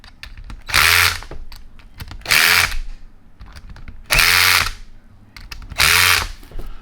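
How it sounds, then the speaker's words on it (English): A power driver on its lowest torque setting tightens gasket bolts in a cross pattern, giving four loud whirring bursts of about half a second each, spaced by short pauses filled with clicks and light handling noise. "I'm going to start with my driver on the lowest torque setting"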